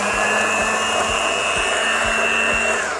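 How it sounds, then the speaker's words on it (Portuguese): An electric mixer beats eggs for a chocolate cake batter in a home kitchen, giving a loud, steady motor whine with a rhythmic rattling pulse from the beaters, close and continuous with no talk. "ligar aqui um bocadinho a batedeira, só para podermos mexer os nossos ovos"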